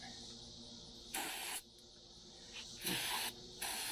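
Carb cleaner sprayed from an aerosol can onto car parts of a 1999 Kia Sportage, three sharp close hissing bursts each about half a second long, with quieter gaps between them.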